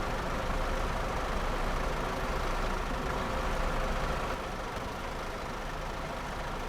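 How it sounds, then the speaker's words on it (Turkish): A garbage truck idles in TheBus driving game, a steady low diesel rumble that holds evenly throughout, close and fairly loud, with no talking. "O çöp kamyonu ablamız kullanıyor."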